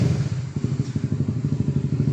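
A motorcycle engine idles nearby with a rapid, steady low chugging pulse, loud and close, with no talking over it.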